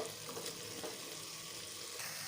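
Spiced bottle gourd leaf and stem curry gets stirred in a hot pan, a steady close sizzle with soft scraping underneath and no voices.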